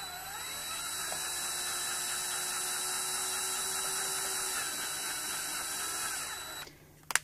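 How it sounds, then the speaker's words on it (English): A power drill turning a Nissan 300ZX Z32 electronic rear-wheel steering rack whirs steadily at a constant pitch for several seconds, then cuts off, followed by a couple of sharp clicks. "I have a electric drill here just plugged into the end of it so you can see how it moves"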